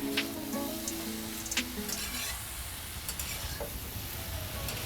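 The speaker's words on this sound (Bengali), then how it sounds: "যাতে এর আদার যে একটা কাঁচা গন্ধ থাকে সেটা যেন চলে যায় ভালো করে নাড়িয়ে নিচ্ছি" Ginger and red spinach are stirred in a frying pan, with a steady sizzle under repeated scraping strokes of a spoon against the pan. A few sharper clinks come early on.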